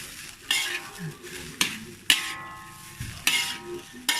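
Village-style nasi goreng with anchovies is tossed in a hot pan, with a steady sizzle under repeated scraping and clanking of a metal spatula against the pan, close and fairly loud.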